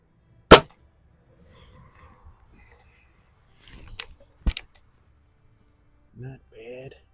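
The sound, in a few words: air rifle shot, vintage Remington Vantage 1200 .177 break barrel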